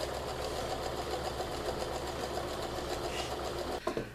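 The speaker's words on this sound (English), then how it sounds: "I'm just going to sew a 1/4 inch seam all the way around the side and the bottom of" Home sewing machine running a steady quarter-inch seam along the side and bottom of a pillowcase, a continuous close mechanical whir with a brief clunk near the end as it stops.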